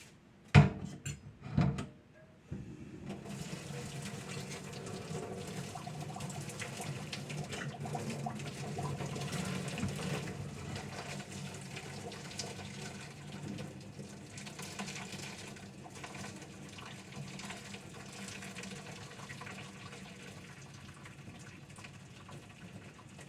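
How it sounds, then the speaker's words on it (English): Water pours off from a pot in a continuous, close splashing stream that follows a few quick clanks of the pot being handled, then slowly tapers toward the end. "So I poured off all the water"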